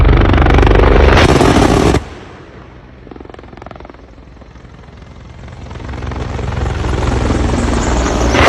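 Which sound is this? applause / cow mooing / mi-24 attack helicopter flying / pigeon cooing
mi-24 attack helicopter flying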